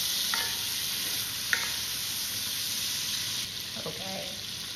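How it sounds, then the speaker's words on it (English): Sausage browns in a hot pan with a loud, constant sizzle while a spoon mashes and breaks it up, giving a few soft scrapes and taps under the frying. "I want this to get nicely browned and cooked throughout. And I'm just mashing it with my spoon."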